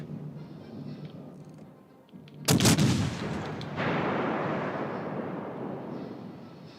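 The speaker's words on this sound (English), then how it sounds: "Concentrate fire on the designated target." Naval gunfire in a warship video game: a sharp, heavy cannon blast rings out after a quieter stretch, then a long rumbling boom rolls on and slowly fades.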